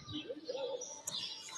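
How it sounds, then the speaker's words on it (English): Birds chirping and cooing at a cork factory, a steady mix of tweets and pigeon-like coos that fill the whole moment at moderate loudness, with a soft voice briefly underneath. "there's a lot of birds here, Beth."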